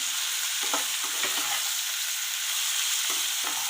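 Chopped taro stolons fry in a hot pan under a steady close sizzle, with a few scattered scrapes of a spatula stirring them and no talking.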